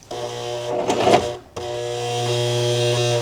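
A sewing machine stitches a coat in close, rapid mechanical whirring bursts: one short run, a brief pause, then a longer steady run to the end.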